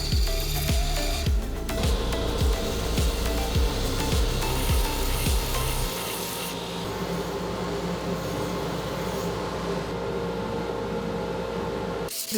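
Handmade knife handle being sanded by hand, a steady rasping scrape with rhythmic strokes early on, then a continuous rougher rubbing, close and fairly loud with no talking.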